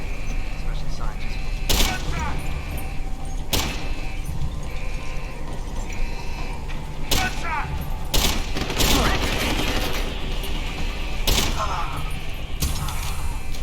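Repeated gunshots in Deus Ex: Human Revolution ring out as separate sharp cracks spaced a few seconds apart, with a busier cluster near the end, over steady game ambience and occasional talking.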